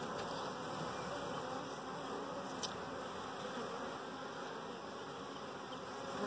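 Honey bees at a busy, crowded backyard hive being open fed produce a dense, steady buzz that fills the whole stretch, loud and close, with no voices over it.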